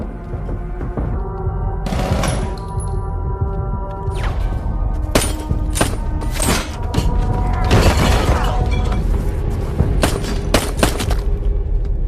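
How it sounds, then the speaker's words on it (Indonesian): Sharp gunshots crack in scattered bursts over a loud, rumbling background with music, several close reports spaced irregularly. "Mike pun langsung menembaki semua orang yang ada di sana"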